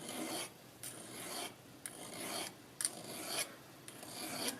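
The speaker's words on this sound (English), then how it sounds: "Now I'm going to cut the bottom bevel until it meets with the" Bottom bevel of a micro carving chisel being ground by hand, a steady series of rasping strokes about once a second, close and moderately loud with brief pauses between passes.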